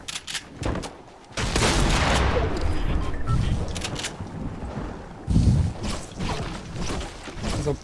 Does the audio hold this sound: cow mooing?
no